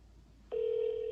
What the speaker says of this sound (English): And now the phone is ringing.